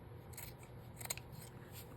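Scissors trim paper for a handmade Christmas journal, giving a few quiet, close snips and a soft slide of the blades against the sheet, with no talk.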